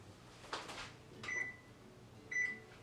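Kitchen oven control panel being set to preheat to 350 degrees: keypad presses followed by two short, bright electronic beeps spaced about a second apart, close and clear over a quiet room.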